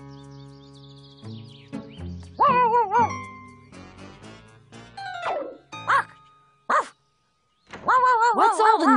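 A big cartoon dog, Clifford the Big Red Dog, barks in loud, deep bursts, several separate barks with short pauses, alongside tonal jingling sounds.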